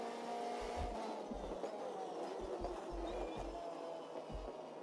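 A DTM race car in the DTM Experience video game drives a lap, its engine a quiet, steady whine with low bumps and faint tire noise, heard far back at low volume.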